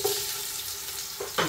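Garlic and ginger frying in oil in a pan, a continuous crackling sizzle close up with a couple of brief louder bursts near the end.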